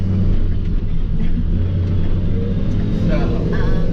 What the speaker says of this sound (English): we're driving home from Roanoke, Alabama